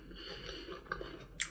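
Someone bites into a firm, unripe orange-fleshed apricot and chews it. The crunching is quiet and close, with a few sharper crisp bites near the end.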